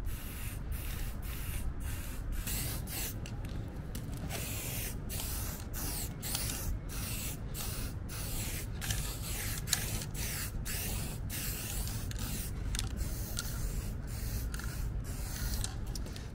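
Pressurized hiss of acrylic resin spray paint from an aerosol can, steady and close in repeated bursts with short gaps and faint nozzle clicks, continuous throughout with no voices.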